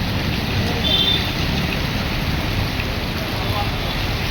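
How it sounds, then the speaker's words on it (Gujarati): Heavy rain pours down beside a lake, a dense, continuous hiss of falling water throughout, loud and close, with no clear talking over it. "વરસાદ ફૂલ ચાલુ છે।"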